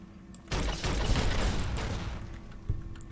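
A grenade goes off in Fallout: New Vegas: after a quiet half second comes a sudden loud, crackling blast that rumbles on for more than two seconds, followed by a smaller burst near the end.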